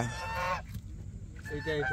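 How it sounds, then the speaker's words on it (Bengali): A white domestic goose on a char gives short, loud nasal honks at the start and again at the end, with a brief quiet gap between them. "এখানে আমার ভাগের একটা রাজহাঁস আছে।"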